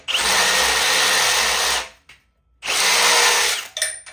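A power drill runs at high speed while reaming and sharpening drill bits, two loud sustained bursts of whirring split by a short pause, with a brief rattle at the end.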